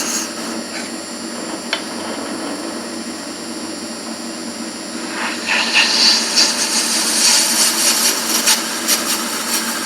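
Wood turning on a lathe for a year-of-birth pen stand, a carbide-tipped tool cutting the spinning wood with a steady rasping scrape that grows louder and brighter partway through, close and continuous with no talk.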